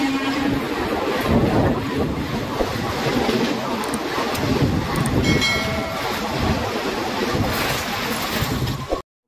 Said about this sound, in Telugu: Narsapur Kannur Narsapur special express